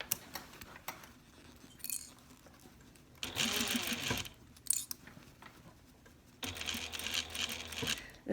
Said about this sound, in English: I love my Juki because I can show you. I can do a single stitch at a time.